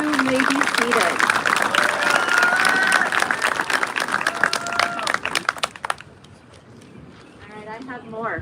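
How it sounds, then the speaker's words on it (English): An audience applauds graduating students at a school commencement, dense clapping for about six seconds before tapering off into scattered claps and a murmur of voices, with some cheering. "Let's give these students a big round of applause"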